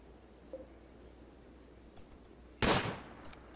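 A single loud rifle shot cracks out in the RimWorld game after faint ticking and near-silence, then fades quickly.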